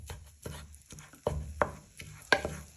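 A wooden spoon chops and scrapes ground meat in a pan, breaking it into fine pieces for a BBQ bean casserole. Several sharp, separate knocks come at uneven intervals over a faint background, with no one speaking.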